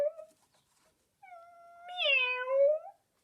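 A black and white cat meows twice, a short plaintive call followed by a longer, rising and falling meow, close and clear with silence around it.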